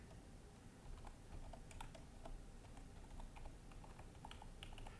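Steady, faint tapping of keys as a password is typed on a computer keyboard, with quick close clicks running evenly over a low background hiss.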